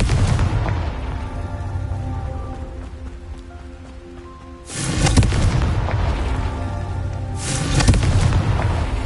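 A Confringo blasting curse exploding in a Harry Potter-style video game, with rumbling loud booms followed by crackling debris, two bursts a few seconds apart over a continuous roaring rain-like background.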